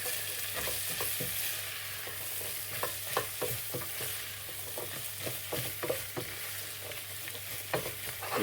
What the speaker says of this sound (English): So they're sweating together. Give it a bit of a stir.